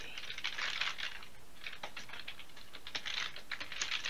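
Computer keyboard keys tapped in quick bursts of close, crisp clicks, with brief pauses between runs as a command is entered.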